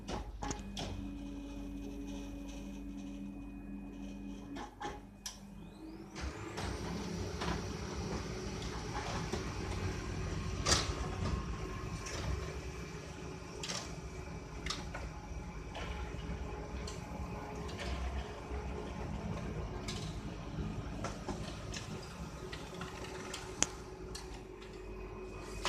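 A Canon imageRUNNER 2420L photocopier runs a copy, starting with a steady mechanical hum and then settling into a continuous whirring drone punctuated by repeated clicks and ticks as paper feeds through.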